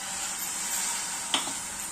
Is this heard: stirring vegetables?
yes